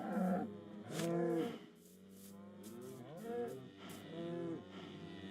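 A cow lows several times in Minecraft, a penned bovine giving drawn-out, slightly rising moos spaced about a second apart, close and clear with no talk.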